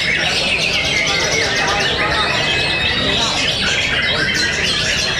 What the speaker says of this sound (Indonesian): Aksi Murai Bonek Master G